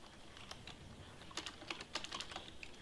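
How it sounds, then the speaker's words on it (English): Keys clatter on a computer keyboard as a shortcut is pressed and a short word typed, with quick close clicks in uneven bursts and a few sharper key strikes. "So let's hit Control and Space and type in"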